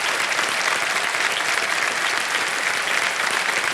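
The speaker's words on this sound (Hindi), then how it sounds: "तालियां बजते रहें सुधा जी के लिए।" A studio audience on the set of a television quiz show gives loud, dense, sustained applause that fills the whole room evenly throughout.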